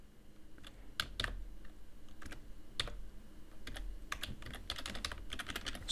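Rapid typing on a computer keyboard, with uneven bursts of keystrokes that come close and fairly quiet against a low background hum, with no one speaking.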